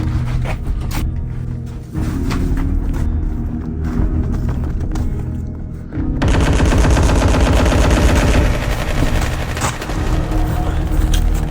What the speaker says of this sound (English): I'm under fire here, Johnson.